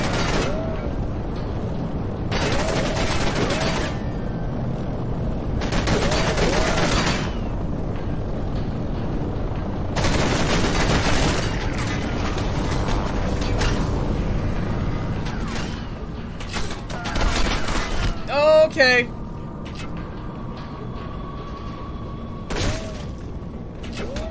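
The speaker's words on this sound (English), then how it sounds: "Where am I getting shot at?" Gunfire in the video game Condemned 2: Bloodshot comes as several loud, sustained bursts lasting a few seconds each, followed by quieter clicks and mechanical noises.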